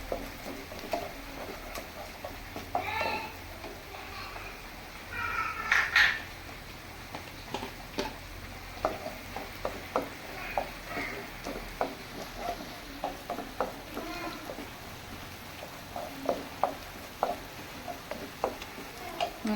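Green chillies sautéing in a pan for beef dum biryani, with a low sizzle under repeated spatula scrapes and taps, close and intermittent, plus brief clinks and no talking.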